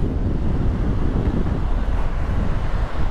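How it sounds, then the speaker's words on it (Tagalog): Strong wind buffets the microphone over the steady roar of rough ocean surf in the aftermath of a typhoon in the Philippines, a continuous heavy rumble with no voices. "Sobrang lakas ng alon."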